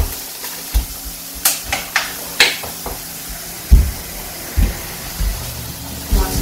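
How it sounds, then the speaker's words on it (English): Minced meat tipped into a hot pan for a cottage pie, with a series of soft thumps and scrapes over a light sizzle, close and alone with no talk. "Okay, so I'm going to add my minced meat."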